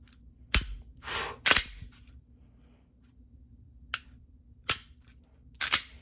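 Dry-fire trigger work on a Glock 26 Gen 5 pistol fitted with an aftermarket trigger: several sharp, close mechanical clicks and snaps spaced irregularly over quiet background hum.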